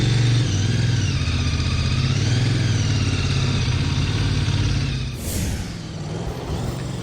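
A Royal Enfield Continental GT650 twin-cylinder motorcycle cruises on a road trip from Mumbai, its engine a steady, loud, close droning hum that drops and shifts pitch partway through, with rushing wind noise and no talking.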